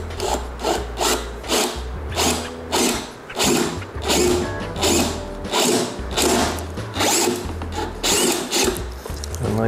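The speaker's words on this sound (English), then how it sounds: "after you get your hole drilled" A power drill with a big bit bores through a hole on a 2022 Road Glide ST hinge cover, buzzing in repeated rough bursts about every half second, close and loud with no talk.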